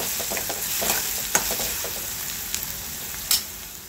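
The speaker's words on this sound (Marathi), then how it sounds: "आपला कांदा छान गुलाबी होईस्तोपर्यंत आपण याला छान परतून घ्यायचं आहे" Onion sautés in a pan for dhaba-style egg bhurji curry, giving a steady, close sizzle with intermittent scraping and stirring clicks from the spatula.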